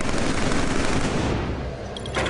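Rapid rifle gunfire from a Killzone 3 firefight, a dense, loud burst of overlapping shots that runs continuously and eases slightly toward the end.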